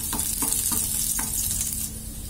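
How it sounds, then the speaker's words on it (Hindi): Finely chopped garlic sizzles and fries in hot oil in a pan, a steady close crackle with a few soft stirring scrapes, no voices. "डाल देंगे यहाँ पे हम सबसे पहले ये बारीक कटा हुआ लहसुन और इसे हम कुछ तेल के लिए भून लेंगे।"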